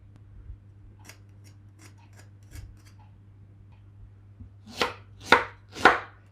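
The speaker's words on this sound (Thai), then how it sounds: "หั่นเป็นชิ้นๆเอาไปปั่นนะคะ" Peeled ginger is cut into pieces with a knife on a board: a few light, sparse taps, then three loud, close chops in quick succession.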